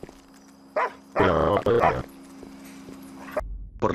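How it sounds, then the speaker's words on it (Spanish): A dog in the video game GTA 5 lets out a couple of loud, close barks, cut off abruptly, over a steady low game hum. "Uy, pero qué bonito perro."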